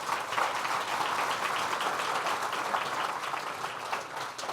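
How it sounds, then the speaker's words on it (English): A crowd applauds state assembly member Donna Lopardo at a Southern Tier regional investment event, a fairly even, continuous wash of clapping from many people, softer and more distant in feel, fading a little near the end. "Let's give her another round of applause."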